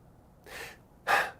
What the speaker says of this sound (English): When your adrenals are overstressed, the breathing is kind of like this.